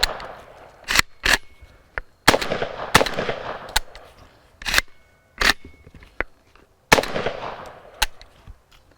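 A Panzer Arms M4 shotgun fires cheap high-brass shells, about eight or nine sharp loud blasts at irregular spacing, each followed by a brief clattering tail, with no talking.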